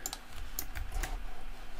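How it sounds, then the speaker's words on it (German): Typing on a computer keyboard during a SpringBoot programming session, a quick, uneven run of close, crisp key clicks, fairly quiet and without speech. "Muss ein bisschen aufpassen, was man hier tippt."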